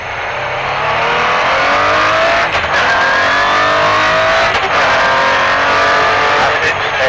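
A Group B rally car engine roars loud and close as it accelerates up through a chicane, revs sustained and rising under steady engine noise with brief lifts, while a voice talks over it.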